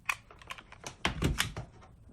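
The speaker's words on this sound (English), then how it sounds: "Here's an example of what the keys sound like" Mechanical keys on a HyperX Alloy Origins Core keyboard clack in a quick, uneven burst of typing, close and fairly quiet, with a denser flurry of keystrokes midway.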